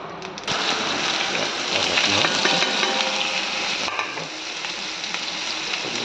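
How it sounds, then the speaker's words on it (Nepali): Panch phoron, cumin and spices crackle and sizzle in hot oil for a Nepali vegetable dish, a steady loud frying hiss with dense popping throughout and no talking. "पाँचफोरन जिरा मसला पड्काइदिन्छु"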